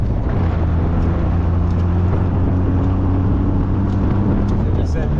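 A car cruising slowly along old Route 66 in the Arizona desert near Holbrook, its engine hum steady and loud from inside the cabin, with people talking over the drone.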